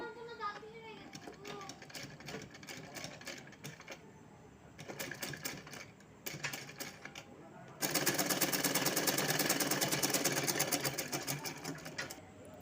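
Sewing machine stitching a little girl's small black dress, rapid mechanical needle bursts in short runs with pauses, then one long continuous run, close up, with someone talking in between.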